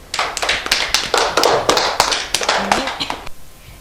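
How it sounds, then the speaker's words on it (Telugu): Several children and adults clap together at a weekend children's show in Warangal, an uneven spatter of hand claps with sharp rising bursts and a little background chatter, fading out near the end. "క్లాప్స్"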